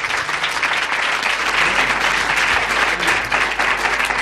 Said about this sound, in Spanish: Sí, un aplauso para Muriel.